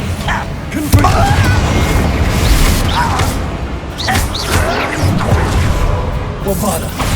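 Confringo fire-blast spell explosions during combat in Hogwarts Legacy, booming impacts and whooshes layered under character voices and battle noise, with a strong hit near the start.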